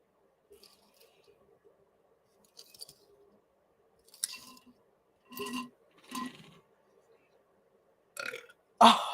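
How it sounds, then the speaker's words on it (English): A loud burp close to the microphone, made up of several guttural bursts spread across the stretch, with quiet gaps and faint mouth noises between them. "I did not mean to burp into the microphone"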